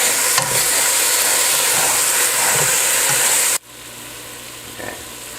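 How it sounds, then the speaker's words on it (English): About a pound of stew beef browning in a pot on a stovetop, a loud steady sizzle and hiss with faint stirring knocks, cutting off abruptly near the end to a quiet hum. "This is about a pound of stew beef that I'm putting in here."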